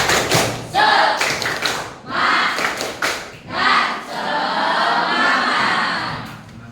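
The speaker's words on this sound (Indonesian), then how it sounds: "Tepuk semangat" Indonesian classroom pupils doing a group clapping chant, loud rhythmic bursts of hand claps and thumps in quick patterns, with shouted voices mixed in near the end.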